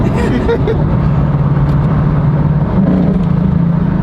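A supercar engine drones loud and close, stepping up and down in pitch as it revs and downshifts, while people talk over it.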